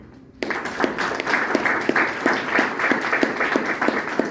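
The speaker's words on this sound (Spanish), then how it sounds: "Con el aplauso de ustedes, saludamos también la presencia de Federico Corral Vallejo." Audience applause at a literary award event begins abruptly after a brief quiet moment and continues steadily with dense clapping and a few louder accents throughout.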